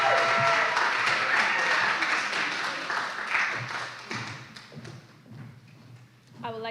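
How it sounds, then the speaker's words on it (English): Applause for the mistress of ceremonies at a university oratory competition, a full round of clapping from the audience that gradually thins and tapers off, with a low steady hum underneath. "Please give her applause as she comes."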